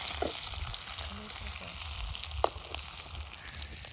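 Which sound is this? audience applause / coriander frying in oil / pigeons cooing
coriander frying in oil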